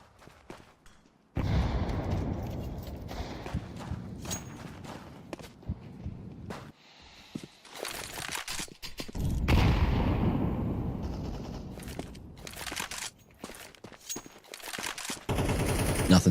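Bursts of pistol shots ring out in a Counter-Strike match, some rapid and clustered, others isolated, mixed with sharp game effects and short quiet gaps.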